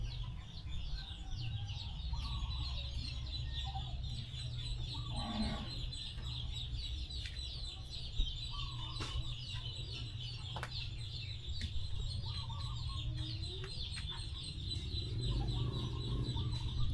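Chabo bantam chickens cluck softly in a backyard farm, with scattered short calls and clucks over a quiet, steady outdoor hum and faint chirps.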